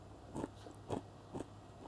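Three crisp bites into a crunchy Cretan barley rusk (paximadi), close and fairly quiet, each a short dry crack spaced about half a second apart, with no talking.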